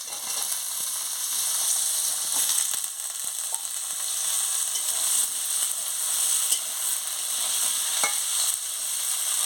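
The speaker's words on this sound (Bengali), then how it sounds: "আলুটাও পেঁয়াজের সঙ্গে ভালো করে একটু ভেজে নেব।" Potatoes and onions fry in a pan for a dish of ridge gourd with poppy seed, a steady broadband sizzle with a few stirring scrapes and clicks, close and fairly loud throughout.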